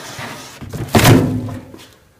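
The butterfly lid doors of a Simplehuman trash can swing shut with a single close, solid thunk, followed by a brief fading rattle in a quiet room.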